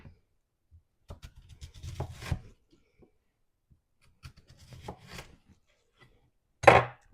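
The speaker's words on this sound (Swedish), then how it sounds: "Löken tar vi och skär i ganska så rejält" A knife cuts an onion into thick slices on a board, giving a few soft crunching cuts with quiet gaps between them and a louder thump at the end, with no talking.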